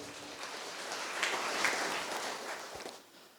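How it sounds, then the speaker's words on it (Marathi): Faint applause from an audience at a book launch at Lok Seva Mandal, Bangli, swelling briefly in the middle, then tapering off and dying away near the end. "आपण फादर कॅजिडनसाठी पुन्हा एकदा खास टाळ्या वाजवूया"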